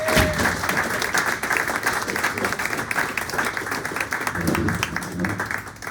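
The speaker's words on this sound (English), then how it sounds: "Now let's give the brilliant Richard Blanco a big round of applause." Bookstore audience welcoming a poet with a full round of applause, dense and fairly close, continuing steadily with occasional thumps underneath.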